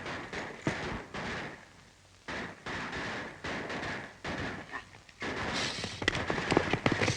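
Sharp gunshot-like cracks and bursts in an old 1930s Western setting, popping at irregular intervals under a rough, noisy background, with a cluster of louder reports toward the end.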